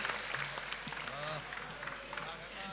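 An audience at a santvani devotional music gathering at Kailas Tekri, Sagapara, claps steadily to welcome a singer. The applause holds evenly throughout, with a voice speaking over it.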